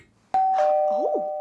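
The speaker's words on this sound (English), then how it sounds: "I think it's the doorbell." A single electronic doorbell chime rings out clearly in a quiet indoor room during children's puppet play, a sharp tone that lingers and bends slightly as it fades.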